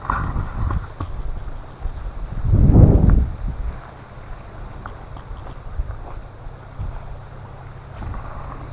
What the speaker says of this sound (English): It's been windy nonstop.